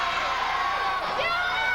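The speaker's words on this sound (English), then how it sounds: "And Peterson asking the crowd if she should do it again. The crowd says yes." A crowd at an LPWA women's wrestling show roars and cheers steadily in a dense, loud wash of voices, with a brief rise in whoops near the end.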